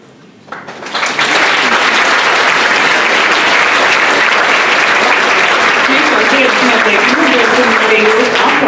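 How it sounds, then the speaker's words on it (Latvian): Sustained applause from the audience at an alumni reunion of Ugāle secondary school, breaking out after about a second of quiet and holding steady and dense to the end. "Arī jūsu aplausus mēģināsim aiznest līdz viņam"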